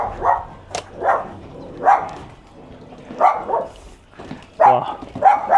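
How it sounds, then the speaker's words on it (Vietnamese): A small dog barks over and over, sharp yips coming in an uneven rhythm, fairly close, with quiet pauses between the barks. "Một con chó nhỏ đang sủa mình một cách rất là nhiệt liệt luôn á."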